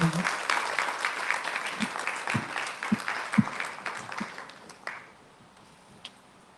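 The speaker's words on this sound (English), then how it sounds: "Please give them a round of applause." Young performers at an outdoor spiritual gathering in a park get a round of applause, clapping that is busy at first, then thins out and fades, with scattered late claps and low thumps.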